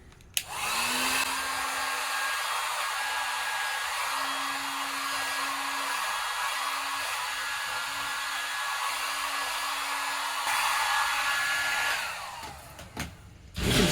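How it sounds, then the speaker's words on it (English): Heat gun blowing to melt a solder connector on trailer hitch wiring for a 2021 Ford Bronco, a loud steady hiss and whine running continuously for about eleven seconds, then cutting off with a few handling clicks. "And then I'll use a heat gun and get that to melt."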